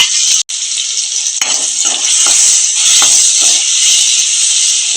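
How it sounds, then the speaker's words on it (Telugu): Cleaned dried prawns hit a hot pan with a loud, steady sizzle and hiss that runs without a break, with a few soft stirring knocks beneath it. "ముందుగా శుభ్రం చేసి పెట్టుకున్న ఎండు రొయ్యలు వేస్తున్నానండి"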